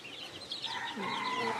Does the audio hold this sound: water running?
no